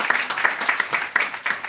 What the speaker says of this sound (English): yes, we can clap to that